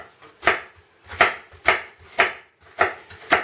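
A knife chops through fresh onions on a cutting board, six crisp, evenly spaced strikes about half a second apart, close and distinct with no talking.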